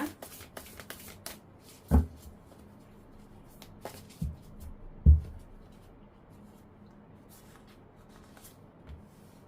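Tarot cards being shuffled by hand in a quiet room, with a few soft riffles and three sharper taps and slaps standing out against a low, steady background.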